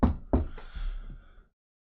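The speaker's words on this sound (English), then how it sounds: "Guess I'll knock." Knocking on a closed monastery door in a fantasy tabletop game session: two sharp raps followed by a softer knock or two, close and alone, fading after about a second and a half.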